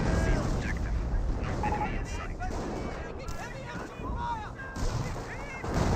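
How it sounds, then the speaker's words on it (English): An artillery barrage in the Company of Heroes video game rumbles in heavy, overlapping booms under continuous commentary, dense and loud throughout. "PaK 38 fires a barrage onto the PaK 38."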